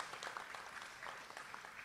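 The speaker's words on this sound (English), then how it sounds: "Can we have a round of applause for people who helped make this happen?" Faint audience applause at a Philadelphia event for a mural honoring journalist Ed Bradley, a brief, distant patter of scattered clapping with no speech.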